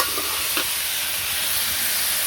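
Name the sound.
vegetables with turmeric, chili and salt cooking in pan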